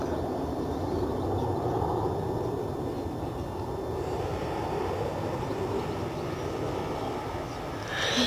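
Jet engines of a KLM Boeing 737 airliner at Bristol Airport, a steady, loud broadband roar that holds without a break throughout.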